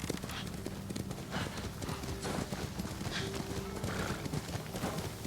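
A horse gallops in a video game, with a steady, rhythmic clip-clop of hooves running throughout under a continuous noisy background, moderately loud and close.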